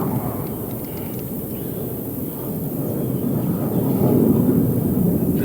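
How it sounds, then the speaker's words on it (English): A military jet fighter passes overhead near a backyard pond, a broad distant roar that swells gradually louder, with no one talking. "The daggone jet fighter."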